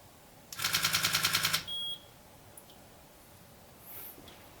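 A Sony HVL-F60RM flash gun fires a rapid burst of about ten evenly spaced sharp pops, followed by a brief high-pitched recycling whine, then near silence with faint handling clicks.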